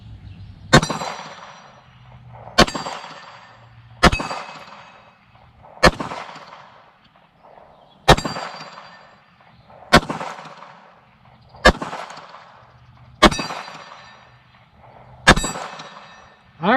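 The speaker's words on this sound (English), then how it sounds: "I want to try to bear down and hit that steel plate again" Pistol shots from a Palmetto State Armory Dagger Compact ring a steel plate target: nine sharp, loud reports, each with a bright metallic clang and a ringing decay, fired at a slow, steady pace about two seconds apart, with no talking.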